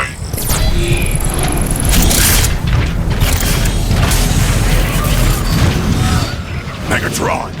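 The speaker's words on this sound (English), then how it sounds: "Artillery online." Artillery strike explosions in Transformers: Fall of Cybertron, heavy booming blasts and crashing debris rolling continuously over a loud battle backdrop, with mechanical clanks and a brief electronic beep early on.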